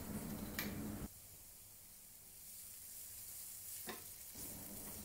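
Garlic, ginger and onion sautéing in a pan for Asian-style stuffed peppers, a soft close sizzle with brief bursts of stirring and louder hissing spurts, otherwise quiet.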